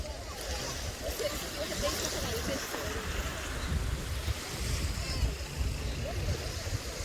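Sea waves washing onto a beach at Mamoura, a continuous broad surf roar with wind buffeting the microphone, steady and fairly close, while people chat faintly nearby.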